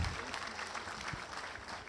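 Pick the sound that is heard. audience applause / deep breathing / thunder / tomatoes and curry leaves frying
audience applause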